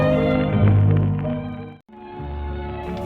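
A cat meows in long, drawn-out cries, close and loud, with a brief pause partway through before the meowing resumes.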